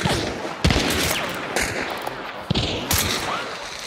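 Gunfire in the video game Hunt: Showdown, with several sharp loud shots and cracks spread across a few seconds over a busy ambient background.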